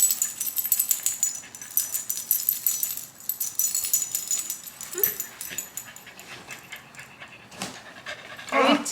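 Dogs panting indoors: quick, breathy rhythmic huffs at moderate loudness, broken by a short whimper-like sound and a louder rustle near the end.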